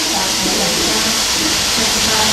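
Loud, steady broadband hiss of a Szechuan-seasoned plant-based dish sizzling hard in a hot pan at an outdoor festival cooking demo, continuous and close without pauses.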